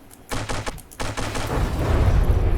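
Heavy cannon fire in the From the Depths naval combat game: a burst of loud booming shots in quick succession, followed by a dense, continuous rumble of overlapping blasts.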